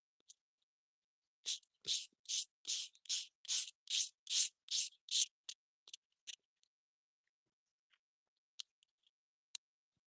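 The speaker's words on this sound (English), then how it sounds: "I'm just sanding away" A run of about a dozen quick, scratchy rubbing strokes of hand sanding on body filler in steady rhythm, then a few scattered scrapes and taps in near silence.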